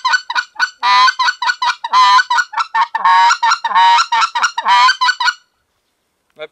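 A hand-held goose call imitating a white-fronted goose gives a rapid, close series of low honking notes mixed with quick clucks, in an uneven rhythm for about five seconds, then stops.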